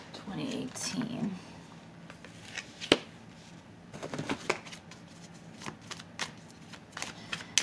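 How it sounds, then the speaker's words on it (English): Tarot cards being shuffled by hand in soft, irregular bursts of riffling and sliding, quiet and close, with faint brief whispering-like noises between the shuffles. "I know the shuffling might be annoying"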